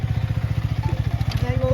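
A motorcycle is being ridden close by. The engine throbs in a fast, even rhythm, with some rattle and faint voices underneath.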